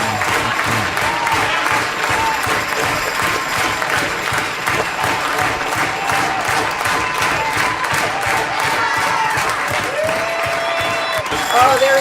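Live music audience clapping steadily, a dense continuous wash of applause with scattered cheers and voices mixed in, loud and close throughout.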